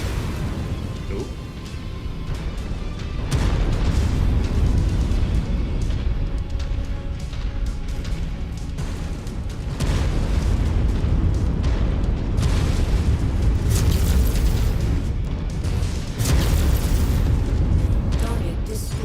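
A tank blows up in MechWarrior 5: Mercenaries with a deep, rumbling boom that rolls on through a long stretch of continuous battle noise, loud and close, with speech over the din.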